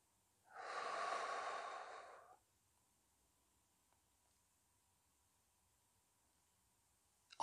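One long, soft exhale during a Pilates stretch, a breathy rush of air lasting under two seconds, then near silence with a faint click at the very end.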